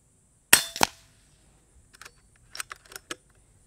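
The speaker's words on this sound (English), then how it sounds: "Cocking's incredibly light and slick for any air gun, let alone one making this much power." An FX Wildcat MK2 .25 air rifle is cocked and cycled, two sharp metallic clacks followed by a run of lighter clicks and snaps from the action, close and crisp in a quiet room.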